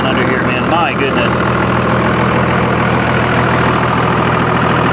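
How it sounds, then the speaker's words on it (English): A loud engine idles with a steady, heavy low rumble that continues unchanged throughout, with a brief voice near the start. "It's just a good, solid, old motor. But damn, is it loud."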